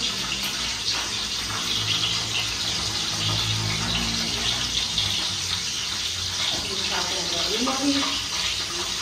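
Tap water runs steadily over food being washed in a village kitchen, a continuous close splashing hiss with faint clatter beneath.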